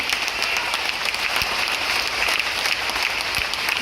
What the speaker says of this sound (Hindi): आपकी ताली की गड़गड़ाहट ये बता देगी